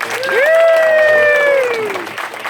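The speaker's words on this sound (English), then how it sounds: "I just want to have another round of applause for our creators" Applause for the panel of top creators at a YouTube Creator Camp in Cebu City, a crowd clapping under one long, loud whooping cheer that rises, holds and slowly falls.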